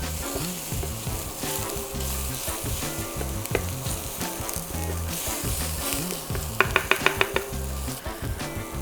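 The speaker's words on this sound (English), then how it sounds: "We're just going to sweat out the shallots and the garlic" Shallots and garlic sweat over medium heat in a pan, giving a steady broadband sizzle with a low bubbling undertone and a quick run of sharp utensil clicks near the end.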